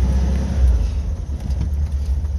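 A Vespa scooter engine while riding, a loud low rumbling drone steady close by with slight fluctuations, no talking.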